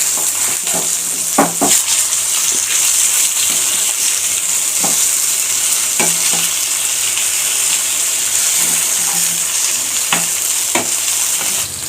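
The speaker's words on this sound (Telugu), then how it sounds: "ఇప్పుడు ఇవి ఫ్రై అయిపోయాయి కాబట్టి ఒక ప్లేట్లోకి అయితే తీసేసుకోవాలి" Coated fish deep-frying in hot oil, a steady loud crackling sizzle throughout with occasional clinks of a utensil against the pan.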